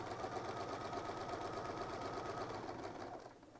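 A sewing machine hums and chatters continuously through free-motion quilting stitches, close and steady, then fading slightly as it slows near the end, with no talking.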